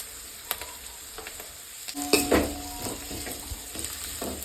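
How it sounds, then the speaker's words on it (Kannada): Onions frying in hot oil with curry leaves added, a steady close sizzle with a sharp spitting burst as the leaves hit the pan, plus light stirring scrapes, no voices. "ಈರುಳ್ಳಿ ಚೆನ್ನಾಗಿ ಕಾಯ್ಬೇಕಾಯ್ತಾ ಸ್ವಲ್ಪ ಕರಿಬೇವು ಸೊಪ್ಪು ಹಾಕ್ತಾ ಇದ್ದೀನಿ"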